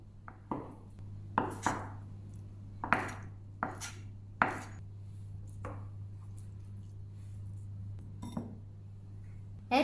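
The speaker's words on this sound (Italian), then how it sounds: "lo taglio a pezzetti e lo metto in un colino" Fior di latte mozzarella is cut into small pieces on a board, a series of sharp knife chops at an uneven pace with small wet squishes between them, close and clear.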